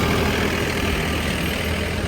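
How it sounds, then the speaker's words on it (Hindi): A tractor engine runs with a steady, rough, low rumble at close range, continuous and unbroken, with no talk over it. "अभी फिर से आएगा ट्रैक्टर।"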